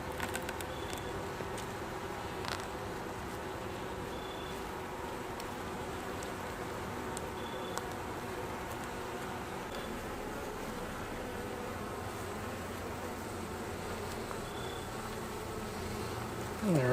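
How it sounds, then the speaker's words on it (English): Honey bees buzz around an open, full hive during winter preparation, a soft constant drone with occasional individual bees passing close, with no talking. "This is still a really good full hive of bees."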